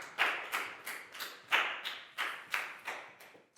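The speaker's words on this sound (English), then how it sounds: "Big round of applause for Pangpon" A Year 4 children's English class claps in unison, about ten crisp, evenly spaced claps in a steady rhythm, close and moderately loud with no talking over them.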